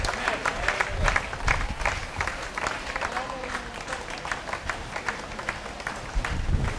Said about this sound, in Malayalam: ഒന്ന് കൈയടിച്ചു ആമീൻ പറഞ്ഞേ.